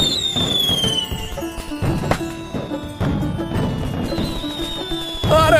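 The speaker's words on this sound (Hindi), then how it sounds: "आतिशबाजी की" Fireworks crackle and pop continuously, with whistling rockets rising in pitch and sharp bangs scattered throughout, loud and close.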